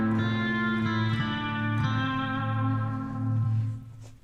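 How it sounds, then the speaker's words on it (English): A sustained electric guitar chord through the plate reverb of a Folktek Alter X multi-effects pedal rings out, bathed in a lush, smooth reverb that lingers and blooms before fading at the end. "And then the plate reverb."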